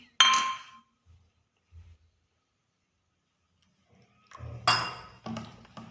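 Chickpea-flour batter with baking soda being mixed in a bowl, a few sharp clinks of utensil against the bowl at start and again later, with soft knocks in between.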